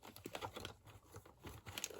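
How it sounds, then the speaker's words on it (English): Double-sided tape is peeled and pressed onto the back of a paper piece for a small autumn journal, giving faint, close crinkling and soft tapping crackles in short bursts. "So I'm going to put some double-sided tape there on the back,"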